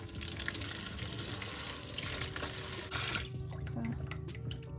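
Tap water runs steadily into a bucket fitted with a strainer for washing fruit and vegetables, a continuous close splashing stream that shifts in tone partway through as the level rises.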